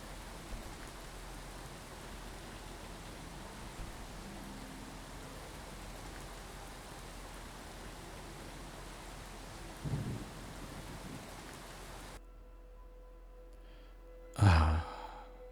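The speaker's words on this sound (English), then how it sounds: "And hopefully the rain will go away." Steady rain hisses for a long stretch with a low thunder rumble partway through, in the video game Skyrim, then it cuts off and a short burst of breath or sighing follows.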